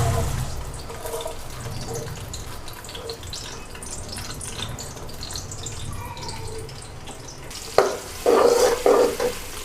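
Onions fry toward golden in about half a cup of oil, a low, continuous sizzle that swells near the end with louder bursts of stirring and spattering.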